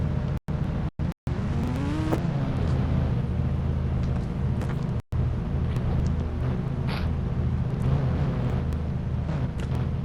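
A scooter engine in a video game drones loudly and steadily, with a brief rising rev early on and a few abrupt cutouts in the sound.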